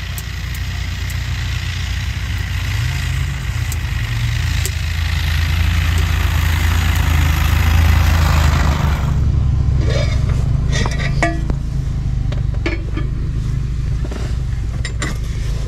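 An engine runs at full throttle beside an Iditarod 2023 race trail, a loud, steady, unbroken drone that holds for the whole stretch with faint clicks and creaks over it.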